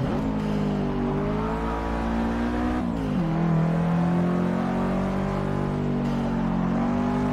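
Bentley race car engine in Forza Motorsport 6, a loud sustained droning whine that holds steady and dips briefly as the gear or throttle shifts, continuous throughout.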